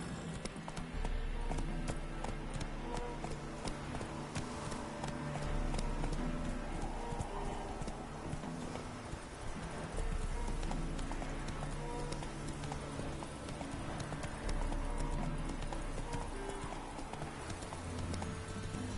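Hooves clip-clop at a fast, steady gallop in The Witcher 3: Wild Hunt, with dense, continuous rhythmic thuds at full volume and game ambience layered beneath.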